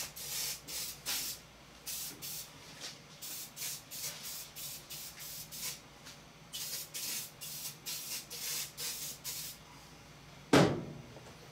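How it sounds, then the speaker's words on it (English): Oven cleaner is sprayed from an aerosol can while rebuilding a direct drive washer: a close, rapid series of short hissing bursts in steady rhythm, ending with a single sharp knock. "Take some oven cleaner to the face"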